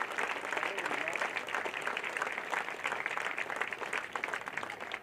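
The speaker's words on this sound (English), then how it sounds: "Please join me in a round of applause to show our gratitude to these alumni who have joined us this evening" An audience applauds alumni at a Trojan game day event, steady sustained clapping from a large crowd filling the space for several seconds without pause.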